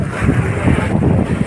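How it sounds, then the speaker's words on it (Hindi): Open sea surrounds the Haji Ali Dargah causeway in Mumbai, with boats moored nearby. Strong wind buffets the microphone in a constant low roar over the rushing water, and no one speaks. "ये देखिए पूरा समंदर है, पूरा समंदर चारों तरफ समंदर है।"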